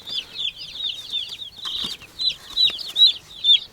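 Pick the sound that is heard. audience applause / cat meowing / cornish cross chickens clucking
cornish cross chickens clucking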